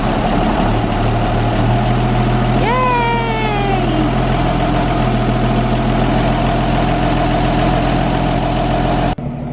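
A 1952 Ford F1 truck engine runs with a steady low idle throughout, with a short rising whine partway in and an abrupt cutoff near the end.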